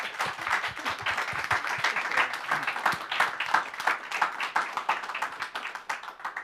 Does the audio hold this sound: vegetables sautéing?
no